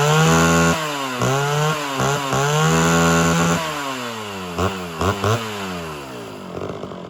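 Homelite Super XL chainsaw runs alone and close, its engine pitch sweeping up and down repeatedly with a few sharp blips as the high-speed carburetor screw is adjusted.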